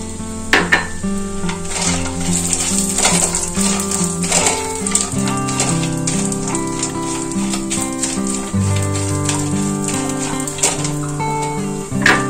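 Cashews hit hot oil and ghee and fry with a close, crackling sizzle. Spoon or pan clatters come through now and then, all set against music in the background.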